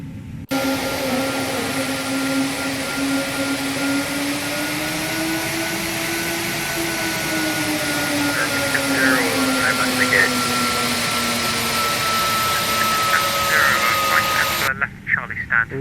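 Twin jet engines of an Airbus A321neo in a flight simulator spool up with a rising, steady whine and roar that holds for the whole stretch, loud and continuous, with faint clicks near the end.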